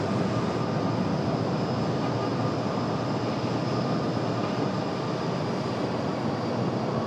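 Delta flight 508 airliner departing RDU runway, a steady, broad jet engine roar that stays loud and even from start to finish.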